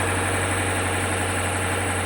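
A flood-damaged BMW M850i, newly fitted with fresh batteries, runs with a steady, even engine drone. The sound is constant and close, with no pauses and no voices.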